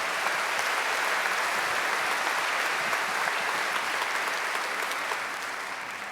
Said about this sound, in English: How about one more round of applause for the Texas High School Choir?